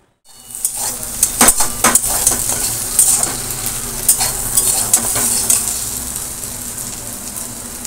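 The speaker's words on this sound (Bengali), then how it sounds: "এখানে ভিন্ডি আলু ভাজাটা ভাজছি" Okra and potatoes frying in a pan with a steady loud sizzle, punctuated by repeated scraping stir strokes and utensil clinks against the pan.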